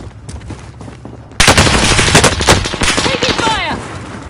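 Heavy automatic gunfire erupts in Call of Duty, loud rapid bursts starting abruptly after quieter game ambience, with the player under fire and a sustained barrage continuing to the end.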